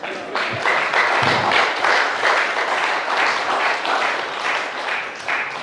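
A lecture audience bursts into sustained applause and cheering at the end of a talk by a pioneering particle physicist, loud dense clapping that holds steady for several seconds before tapering slightly.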